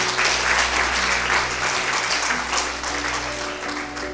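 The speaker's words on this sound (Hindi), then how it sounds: "तालियां बजा के प्रभु का धन्यवाद।" A church congregation claps in thanks to God during a sermon, with steady, dense applause from many hands, loud and sustained over a low hum, with no speech over it.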